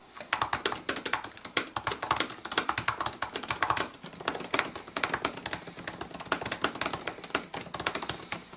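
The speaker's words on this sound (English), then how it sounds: "But this also changes the clicking tone of the keys." Keys on a 2018 Apple MacBook Pro 13-inch laptop click rapidly and steadily as someone types, close and crisp, with a brief pause partway through and no talking.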